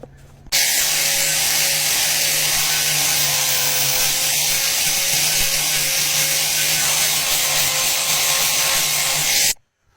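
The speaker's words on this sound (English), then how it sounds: "Now I'm going to grind off most of this." A grinder works a sword blank, giving a steady, loud, close abrasive hiss with a constant motor whine that starts abruptly, holds for about nine seconds and then stops.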